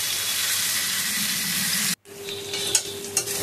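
Spice paste with new potatoes sizzles loudly in a pan, a steady frying hiss that cuts off abruptly, followed by quieter bubbling and a couple of faint clinks.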